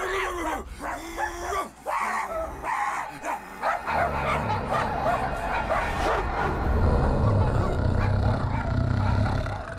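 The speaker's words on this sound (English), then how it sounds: "Why are they barking?" Dogs barking and yipping in the Guardians of the Galaxy video game, a few sharp barks early, then busier mixed noise and game sound, loud and close.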